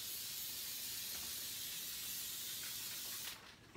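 Heat spray hissing out of a can in one long, loud, steady burst, close up and alone, cutting off sharply just before the end.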